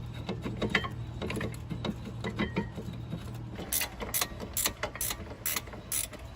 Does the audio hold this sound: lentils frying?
no